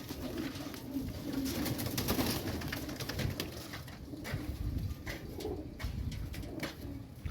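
Pigeons being readied for a racing competition coo repeatedly in soft, rolling calls close by, with faint fluttering and ambient rustle around them.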